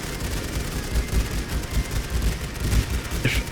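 Soldiers come under a dense, unbroken barrage of gunfire in the video game The Great War: Western Front, a steady roar of overlapping shots with no pauses and no voices.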